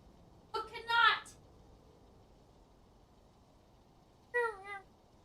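A very fat cat meows twice, a drawn-out call near the start and a shorter one about four seconds later, close and fairly loud over faint background hiss.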